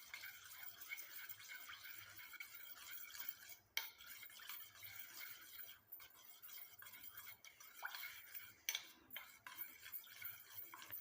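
Soap being stirred as it melts in a hot water double boiler, a steady scraping and swishing with light clinks of the utensil against the pot, continuous and close with no talking.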